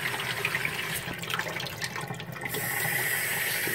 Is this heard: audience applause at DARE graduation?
no